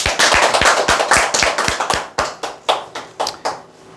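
Crowd at a sales training seminar clapping in unison, about a dozen and a half sharp, close claps in a steady beat that loosens and thins toward the end.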